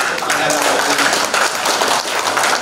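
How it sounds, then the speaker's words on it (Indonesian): An audience at a government benchmarking session applauds a guest speaker, dense, steady clapping at close range with some voices mixed in. "pertama beri tepuk tangan dulu untuk narasumber kita"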